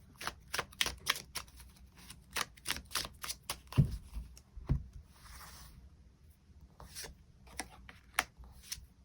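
Tarot cards being shuffled and drawn from a deck, a quick series of crisp card snaps and riffles up close, with a couple of soft thumps as cards land, no talking.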